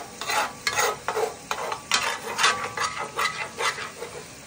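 Braising liquid for halibut reducing in a pan after deglazing the sediment, steady bubbling sizzle with repeated scraping and stirring strokes, close and moderately loud, no talking.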